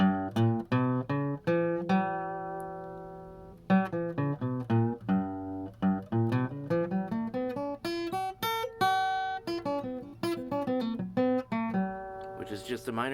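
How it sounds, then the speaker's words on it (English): A minor pentatonic scale is played as one continuous stream of notes with no pauses, clear pitched tones climbing and descending in an even flow, close and alone. "Which is just a minor pentatonic scale."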